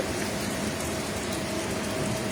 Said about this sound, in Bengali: বেশ বৃষ্টি হচ্ছে